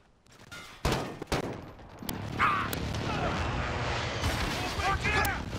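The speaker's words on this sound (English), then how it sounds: "Enemy precision airstrike inbound." Heavy explosions and gunfire from a precision airstrike in a first-person shooter video game, with loud booming blasts near the start followed by a dense, continuous rumble of impacts while a player talks over it.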